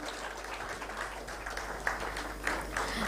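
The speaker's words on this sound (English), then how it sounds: "Let's give a very big round of applause for him." A hall audience applauds at the stock listing ceremony of Biopol Chemicals Limited: steady, moderately distant clapping runs throughout, with a few sharper claps standing out.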